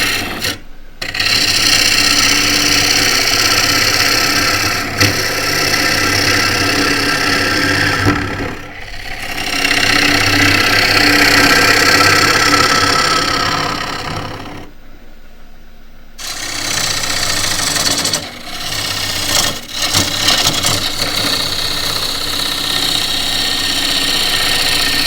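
Wooden bowl being hollowed on a lathe with a half-round gouge, a steady loud rasping scrape over the motor's hum, broken by a few brief pauses and one longer stop mid-way.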